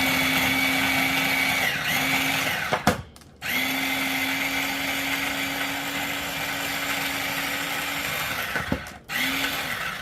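A loud electric chopper whirs continuously as it chops onions, stopping briefly twice with short gaps before the motor starts again, close and harsh.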